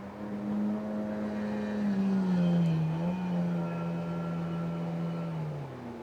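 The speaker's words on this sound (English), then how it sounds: "there's a lot of things going on out on the river and jet skis and boats" A steady motor drone of jet skis and boats running on a river, rising slightly and then fading, with no voices.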